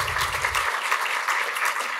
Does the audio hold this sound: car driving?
no